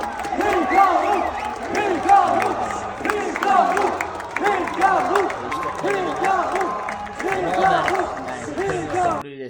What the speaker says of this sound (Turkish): Hikaru, Hikaru diye bağırmaya başladı